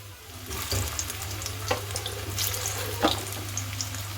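Spinach kofta balls deep-fry in oil, a steady bubbling crackle with occasional sharp pops over a low, constant hum.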